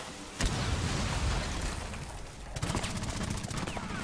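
A thermite breach charge detonating in Rainbow Six Siege: a loud, sustained crackling, sizzling roar that starts abruptly, dips briefly, then surges again with rapid popping bursts, close and dominating.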